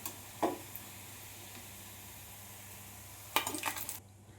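Metal utensils clink against a frying pan while fried vegetable chops are lifted out one by one, a faint knock early and a brief cluster of clatters near the end over a low background hum.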